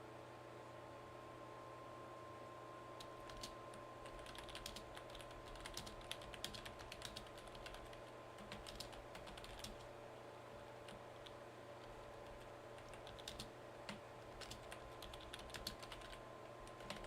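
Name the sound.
typing on a computer keyboard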